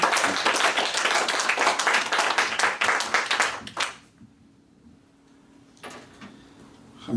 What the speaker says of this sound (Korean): 기왕이면 좀 박수 크게 한번 격려 박수